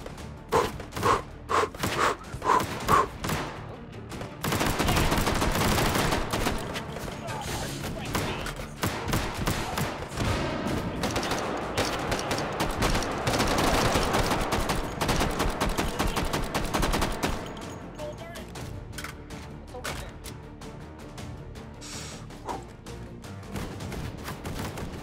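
Gunfire in the VR game Hot Dogs, Horseshoes & Hand Grenades on a tower map rattles almost continuously, dense rapid shots layered with single cracks, loud and close, with a player's voice breaking in over the shooting.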